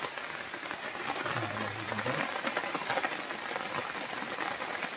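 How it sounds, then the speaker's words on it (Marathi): Rain falls steadily as a soft, even hiss of drops, fairly faint and continuous, with a brief low hum passing in the middle. "पाऊस आला"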